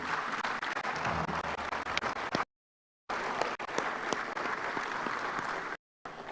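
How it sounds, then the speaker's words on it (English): A room full of people at a parliamentary assembly applauding steadily for a visiting Speaker and delegation, the clapping dense and sustained, briefly cut off twice before resuming. "Let us all rise to give the Speaker and his entire delegation a round of applause"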